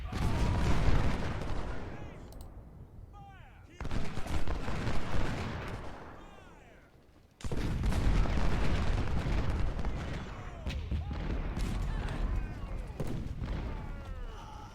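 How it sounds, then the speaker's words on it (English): Dense infantry rifle volleys crackle across a Civil War battlefield at Salem Church in the Ultimate General: Civil War game, with repeated musket fire and booming bursts rolling continuously, briefly thinning near the middle before resuming at full intensity. "I need my infantry firing."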